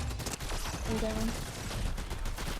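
Rapid video-game shooter gunfire crackles steadily in the background, fairly faint, under continuous excited talk from players.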